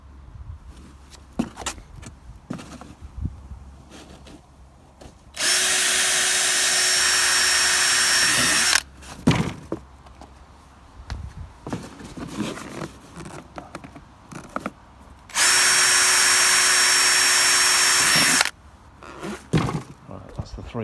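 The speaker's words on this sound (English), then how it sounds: "Okay, let's get those holes drilled." A power drill bores 3mm holes in a Land Rover Freelander 2 bumper cover, two loud steady whirring bursts of about three seconds each, with handling clatter and someone talking between them.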